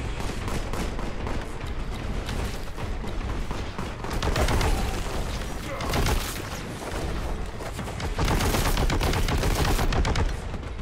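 Rapid weapon fire in the video game Warhammer 40,000: Boltgun: a loud, continuous stream of gunshots with heavier booming bursts, set against game noise with a voice talking over it.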